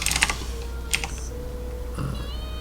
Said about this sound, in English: typing like shit